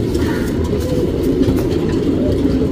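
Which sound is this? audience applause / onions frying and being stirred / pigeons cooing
pigeons cooing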